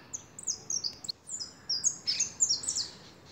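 A goldfinch sings alone in winter, a close, bright run of quick twittering chirps and trills in short bursts, with a quiet background.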